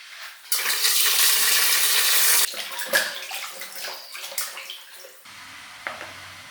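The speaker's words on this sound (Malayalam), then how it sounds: "ഇനി ഇറച്ചി വല്ലതും കഴുകാം അത് ആദ്യം ചെയ്യാം" Chicken meat being washed under a running tap, with a loud gush of water pouring at first, then splashing, sloshing and handling sounds as the flow eases and stops.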